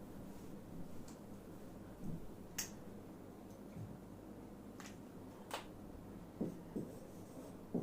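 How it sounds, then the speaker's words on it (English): Marker or chalk writing on a board in a tax lesson, with sparse, quiet taps and short scratchy strokes over low room hum, no speech. "Yes, I am writing it again properly."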